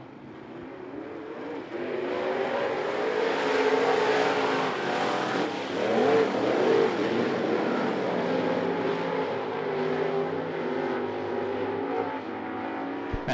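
Hobby Sportsman race cars roaring off at the start of a heat race at I-75 Raceway, a loud sustained engine din swelling and holding as the pack accelerates, with no voices over it.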